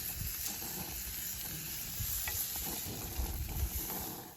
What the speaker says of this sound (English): We're going to grill this on a medium-high heat.